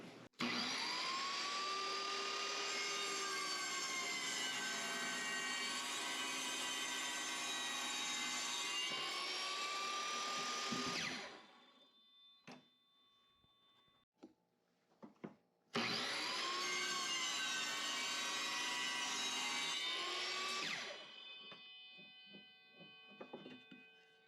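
A power saw cuts through a walnut M1 Garand rifle stock in two long, loud, steady runs separated by a few seconds of quiet with light knocks.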